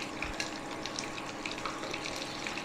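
Chicken strips frying a second time in hot oil, a steady crackling sizzle with scattered pops and spits, fairly close and continuous, with no voices.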